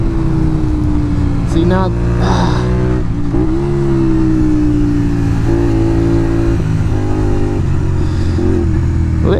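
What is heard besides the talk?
Honda VTR 250 V-twin motorcycle engine on country road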